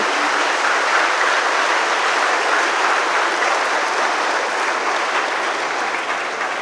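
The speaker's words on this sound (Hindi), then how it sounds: "Shall we give a big applause to the Lord?" Congregation at a worship service giving a big round of applause, a continuous even roar of many hands clapping with no voices standing out.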